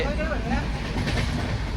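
A continuous low rumble and rattle of a train rolling along the rails, heard from inside the carriage, steady and fairly loud.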